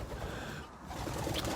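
Pigeons in a loft coo softly amid a dense, steady wash of bird noise and room hum, continuous for under two seconds.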